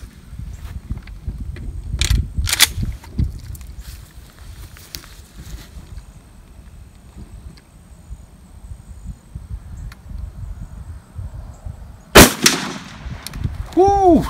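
A shotgun fitted with a full choke tube fires a 3.5 inch Remington Magnum buckshot load. One very loud, sharp blast stands out against quieter outdoor noise and a few earlier pops, and a voice follows right after.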